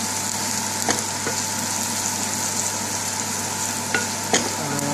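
Canned sardine masala with ground coriander and red chilli powder gets stirred in a frying pan, a steady loud sizzle broken by a few brief spoon scrapes against the pan.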